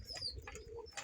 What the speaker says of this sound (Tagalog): Ito ang ating mga ibon na nagsisikain ngayon